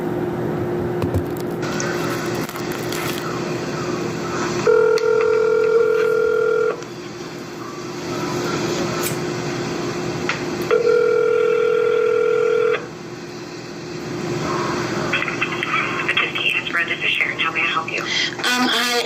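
A telephone call is placed, with touch-tone keypad beeps followed by two long steady ringback tones separated by a pause, then a brief voice and some rustling near the end.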